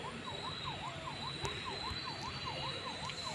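A police car siren wails in a steady up-and-down pattern during video game play, sounding distant and fairly faint over a constant background hum.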